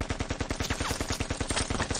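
Gunfire from a Naruto fan animation comes as a fast, even burst of loud, closely spaced shots, like an automatic weapon, for about two seconds.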